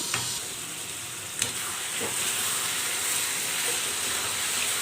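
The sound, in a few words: chicken frying on high flame while being stirred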